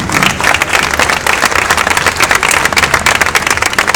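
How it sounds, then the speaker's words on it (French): Audience at a hairdressing contest applauding continuously, a loud, dense, steady clapping that fills the whole stretch without pause. "On l'applaudit."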